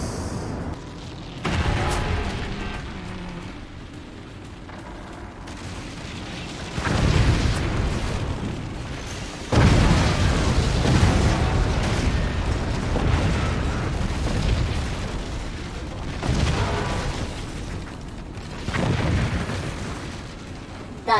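Booming cannon blasts and explosions from the video game Forts, several heavy bursts rolling out across the stretch with dense rumbling in between.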